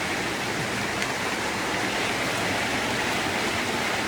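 A strong current of water rushes past at a river fishing spot. The flow makes a loud, constant broadband roar with no breaks, and no voices are heard.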